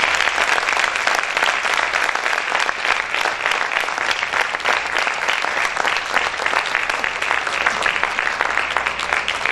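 A church congregation at an apostolic service claps loudly and continuously, a dense, steady wash of applause that fills the room for nearly ten seconds without letting up.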